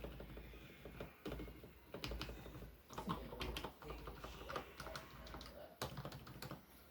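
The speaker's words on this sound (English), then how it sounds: "if you listen to my spacebar stabilizer" Repeated presses on the lubricated spacebar of an IBM KB8923 keyboard, giving a series of soft, close keyboard thocks in an uneven rhythm without rattle.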